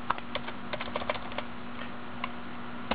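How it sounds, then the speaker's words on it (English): A computer keyboard is tapped at a terminal in quick light keystrokes, sparse and irregular, over a low steady electrical hum. "We're going to type in cd"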